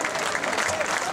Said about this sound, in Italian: Chi viene? Il soprano Immacolata Riccardi. Applauso.